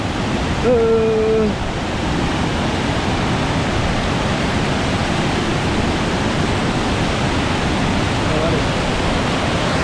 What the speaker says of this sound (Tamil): தண்ணி பயங்கர ஃபாஸ்ட்டாக அடிக்குது பாருங்கள்